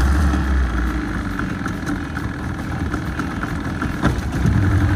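A boat engine starting and running during a fishing outing, a steady loud rumbling drone close by with a slight surge near the end, with no talk.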